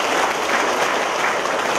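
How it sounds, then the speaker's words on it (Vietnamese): Loud, dense applause from a church congregation fills the whole stretch, steady clapping with no break, close and enveloping. "Một tràng pháo tay thật to thưa anh chị em."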